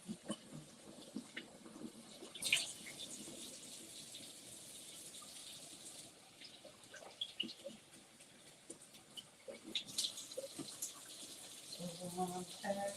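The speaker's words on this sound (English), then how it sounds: "I'm using the can to strain my beans. Or to wash my beans." Water runs and splashes into a can as beans are rinsed in a kitchen, a soft, uneven trickle with occasional clinks and gushes, fairly quiet and close.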